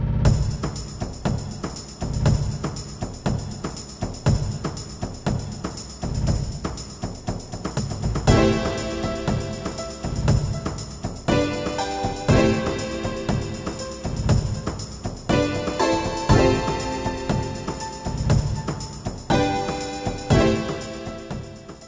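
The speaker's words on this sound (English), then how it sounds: "So what do you think this game's combat music sounds like?" Battle music from the survival horror RPG Koudelka, an upbeat, driving track with pounding percussion and layered melodic instruments that enter partway through, loud and continuous with no talking.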